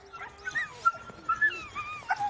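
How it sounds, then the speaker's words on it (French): Sled dogs in their Oregon yard whimper and yip in a string of high, wavering whines and short cries, fairly close and clear with no talk over them. "Un peu plus bas, c'est le territoire des chiens de traîneau"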